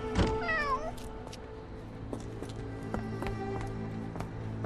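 A single wavering meow from a cat in the Sherlock Holmes: The Awakened game sounds near and clear at the start, then fades into a low ambient hum with faint ticking.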